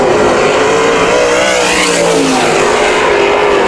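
Sprint cars racing at Bakersfield Speedway on a dry, slick dirt oval at night, a loud, steady roar of several engines blending together without a break, with no voices.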